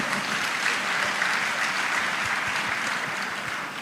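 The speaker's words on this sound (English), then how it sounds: "I think they deserve another round of applause." An audience at a celebration of the airline Air Peace claps in a sustained round of applause, dense and even, fading slightly at the close.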